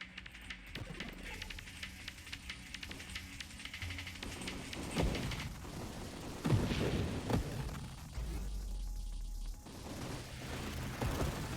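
Spaceship weapons in the video game Nova Drift fire in a dense, continuous barrage of rapid shots and bursts, loud and unbroken with layered impacts throughout.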